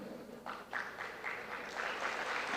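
An audience at a certificate ceremony applauding: a faint, crowd-wide patter of clapping that rises and swells through the moment, heard from a distance in a hall.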